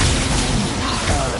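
Blasting-spell explosions in Hogwarts Legacy, a dense, continuous roar of booming bursts that fills the short span at steady high loudness, with voices mixed into the din.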